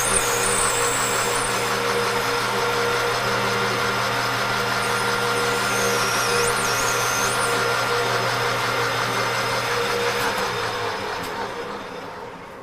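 A machine tool cuts metal, taking a half-inch pass with steady feed, producing a continuous loud grinding drone with a whining tone that holds for most of the stretch before fading near the end.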